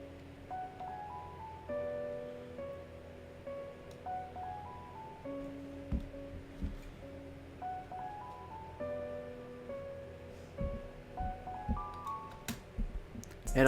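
A layered piano part plays quietly as a melody layer for a hip-hop beat: sparse, ringing notes step through a slow pattern, faint and somewhat distant, with a few light clicks scattered throughout.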